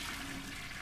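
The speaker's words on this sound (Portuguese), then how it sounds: "Nossa senhora, vamos dar descarga." A toilet flushing in a horror video game, a dense continuous rush of water that fills the short moment at steady loudness, with no voices over it.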